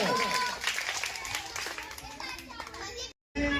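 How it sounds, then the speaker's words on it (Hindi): Schoolchildren clap together in a classroom activity, the applause mixed with young voices and chatter before cutting off abruptly near the end. "जोरदार तालियां हो जाए"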